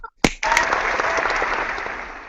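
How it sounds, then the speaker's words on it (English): An audience snaps fingers after a poem at a live show, a sudden burst of many snaps that starts loud and continues as a dense, crackling patter. "Finger snap."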